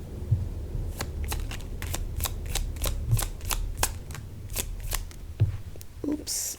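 Tarot cards shuffled close by in a rapid run of crisp riffling snaps and flicks, steady for several seconds over a low background murmur.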